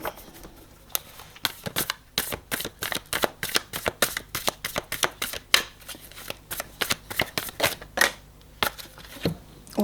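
Tarot cards shuffled by hand in a quick run of sharp riffling slaps and flicks, close and fairly loud, with a few cards dropping out along the way.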